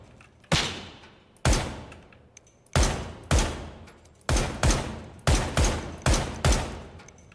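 Gunshots in a shooter video game, about ten sharp single reports fired in an irregular rhythm with short gaps, loud and close, each decaying quickly, with no talk over them.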